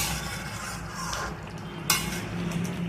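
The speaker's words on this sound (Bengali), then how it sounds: "একটু মাংসটা নাড়িয়ে দে।" Chicken pieces for biryani frying in a pan as they are stirred, giving a steady sizzle with light scraping and a sharper clink of utensil on the pan midway through.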